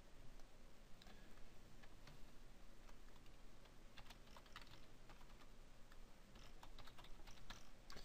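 Continuous, faint computer keyboard typing as a classroom name is entered for a SMART Response test, rapid light key clicks over a steady background hiss, with no speech.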